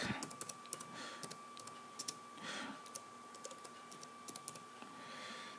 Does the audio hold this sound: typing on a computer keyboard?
yes